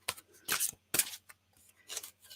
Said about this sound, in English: I got to shuffle these.